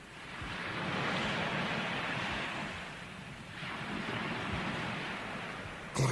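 Open sea with rolling waves and steady wind, a continuous broad roar that swells and eases in long surges, loud and close with no voices.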